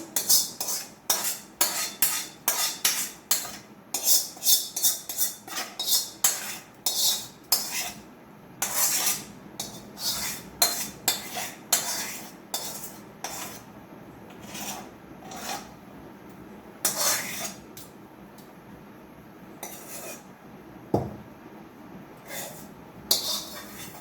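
A utensil scrapes and stirs through thick raw tamarind pickle in a pan, in quick rhythmic strokes that slow and thin out toward the end.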